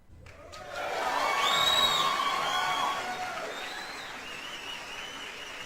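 Audience applause and cheering at a live call-in talk show swell quickly, hold steady for a few seconds, then ease into a lighter, sustained patter, with no talking over it.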